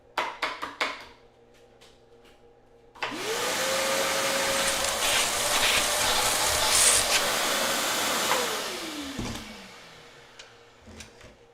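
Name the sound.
vacuum cleaner sucking up aluminum machining chips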